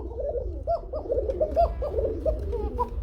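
Fancy pigeons cooing repeatedly in soft, rolling bursts, several birds close by with a steady low hum in the background.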